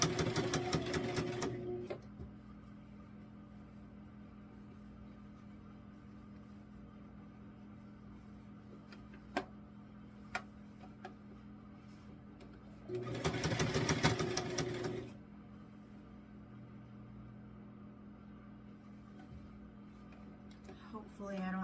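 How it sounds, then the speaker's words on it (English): Sewing machine stitching a kitchen apron over its ruffles, two steady whirring runs of a few seconds each with a quiet stretch between, close and moderately loud, with no talk. "it's gonna sew over that and the ruffles"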